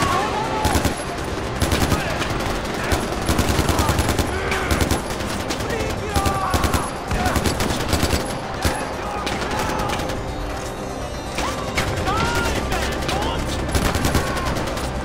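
Gunfire in Far Cry 4, bursts of automatic and single shots cracking repeatedly over about fifteen seconds, loud and close amid battle noise, with a voice talking in places.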